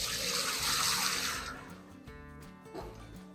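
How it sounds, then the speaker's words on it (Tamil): Water being poured in a heavy, rushing stream into a large cooking pot, about 12 litres for a 3 kg chicken biryani, loud for the first second and a half, then tapering to a thin trickle and faint splashes. "12 லிட்டர் தண்ணி ஊத்த போறேன்."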